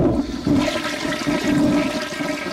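A toilet flush used as a sound effect in a radio ad about lost water: a loud, close rush of water swirling and draining steadily, heard alone without talk.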